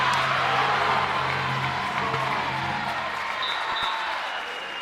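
A big senior-day crowd at a college volleyball match in a gym applauds and cheers, a loud, dense wash of clapping that holds steady and then tapers slightly toward the end.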